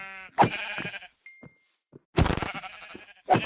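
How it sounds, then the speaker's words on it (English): Sheep in the video game Minecraft bleat several times in short, separate calls, close and fairly loud, with quiet gaps and a small chime between them. "Ooh, got sheep right here too"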